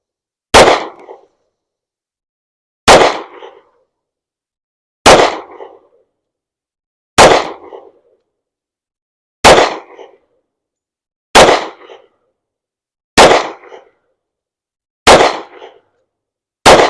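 Eight sharp 10mm pistol shots from a Springfield Armory XD-M Elite firing Armscor ammunition, spaced about two seconds apart, each a loud close crack with a short decaying tail and silence between.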